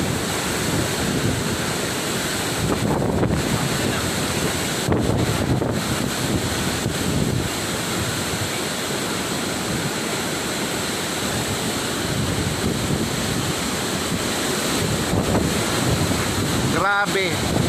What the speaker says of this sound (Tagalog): Sobrang lakas ng hangin.